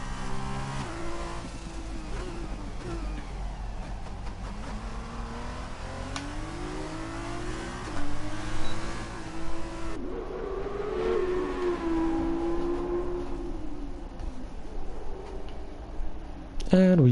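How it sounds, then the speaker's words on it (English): A blue race car laps the Singapore circuit in a sim-racing league, its engine droning steadily with rising and falling revs, gear shifts audible, while a commentator talks over it. "we get to see the lovely blue car of Ben Shapiro driving around the track"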